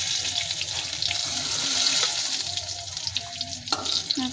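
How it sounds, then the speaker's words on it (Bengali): Eggplant being fried in oil in a home kitchen, a loud steady hiss and sizzle with a few clinks and scrapes near the end. "বেগুনগুলো আমাদের ভাজা হয়ে গেছে দেখো বন্ধুরা।"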